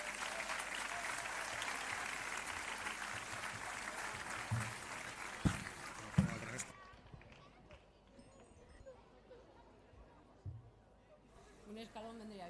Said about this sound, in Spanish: Un aplauso para Cris.